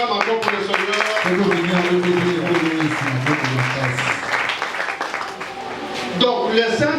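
A church congregation applauding and cheering during a service, producing a steady, loud wash of clapping and crowd voices that holds for several seconds while a speaker talks over it.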